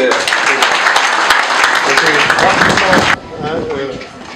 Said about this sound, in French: Donc je voudrais qu'on applaudisse Thomas pour ce...